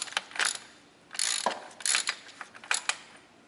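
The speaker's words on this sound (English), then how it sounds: "Now it's the same socket to remove the drain bolt. Just get on there. Just break it loose." A socket ratchet breaks loose the transfer case drain bolt on a 1995 Jeep Cherokee XJ 4x4: several quick bursts of close, sharp clicking from the pawl, with brief pauses between strokes and no talk.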